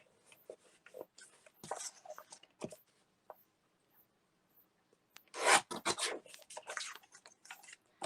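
Scissors trim the white paper edges off sheets for a Stamperia Lady Vagabond mini album, soft close snipping and rustling in short irregular bursts with quiet gaps between.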